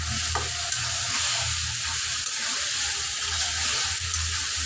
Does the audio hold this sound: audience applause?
no